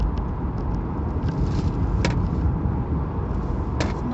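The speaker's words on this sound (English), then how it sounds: "All we hear is just the electric motor spooling up with the turbo." Nissan Leaf electric car driving at around 60 through a bend, a steady broadband road and motor hum with a faint whine, continuous and fairly quiet, with a couple of brief clicks.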